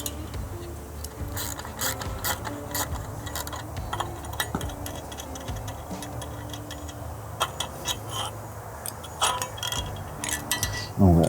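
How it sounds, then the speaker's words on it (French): Wrench ratcheting while motorcycle nuts are removed with a Torx key and a flat spanner, heard as quick clicking bursts with small metallic knocks, close up and unspoken over. "L'étape d'après consiste à retirer ces deux écrous là, pareil avec la Torx et"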